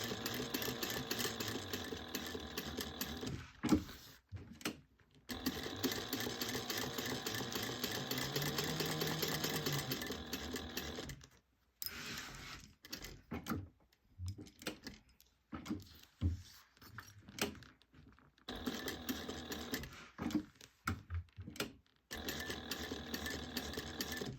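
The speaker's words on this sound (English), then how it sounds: "then back stitch, and then you're going to go sew down" A sewing machine stitches a crossbody bag, running in long steady bursts of rapid mechanical clatter, stopping briefly between runs for backstitching and repositioning, fairly close with no talking.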